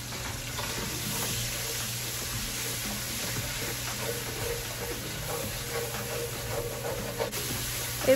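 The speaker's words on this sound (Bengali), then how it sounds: "প্রথমে তেল গরম হয়ে গেছে, একটা জিঞ্জার গার্লিকের পেস্ট বানিয়েছি একটু কাঁচা লঙ্কা দিয়ে, সেটা আগে তেলে দিয়ে দেব।" Ginger-garlic paste blended with green chilli hits hot oil in a pan for chilli chicken, giving a steady, close sizzle and spatter that holds evenly throughout with faint stirring scrapes.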